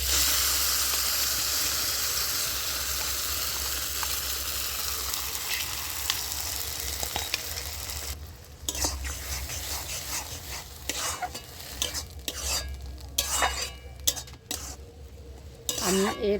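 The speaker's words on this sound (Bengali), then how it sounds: "এবার ওই তেলের মধ্যে আমি বেটে রাখা লাউ পাতাটা দিয়ে দিচ্ছি।" Ground gourd leaf paste sizzles in hot oil in a pan, with a steady frying hiss for the first half, then scraping stirs and utensil clinks against the pan, close and fairly loud.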